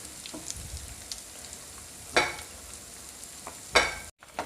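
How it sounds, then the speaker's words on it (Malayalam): Chicken popcorn fries in oil over a medium flame with a quiet, low crackle, broken by a few sharp stirring clacks and scrapes. A brief gap of silence comes near the end. "ഇത് ഞാൻ മീഡിയം ഫ്ലെയിമിലാണ് ഇട്ട് ഫ്രൈ ചെയ്തെടുക്കുന്നത്."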